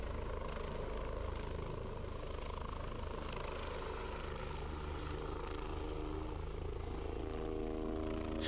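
A helicopter's rotor thumps steadily with a constant engine whine, close and loud, holding a continuous roar throughout.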